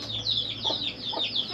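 Chickens clucking nearby in a rural yard, a series of soft, quick cackles and short calls overlapping in an uneven rhythm, with no talking.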